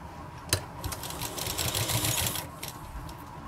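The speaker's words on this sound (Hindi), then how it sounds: "हम इसके ऊपर ये सिलाई लगा लेंगे और एक कट हम यहाँ पर लगा लेते हैं।" A sewing machine stitches a kurti sleeve, a quiet rapid mechanical chatter running in bursts with a sharp click at the start and soft handling noise.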